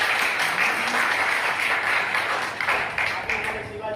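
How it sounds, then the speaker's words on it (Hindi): An audience at a business plan presentation applauds, a loud sustained patter of clapping that tapers off slightly toward the end, with a voice faintly present beneath it. "एक बार जोरदार तालियां चाहेंगे सीमा साहब के लिए।"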